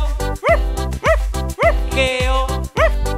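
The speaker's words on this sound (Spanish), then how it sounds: "El viejo granjero tenía un perro que se llamaba Bingo." A dog barks in a Spanish-language children's song about a farmer's dog, with repeated cartoonish yipping barks set rhythmically over loud musical backing.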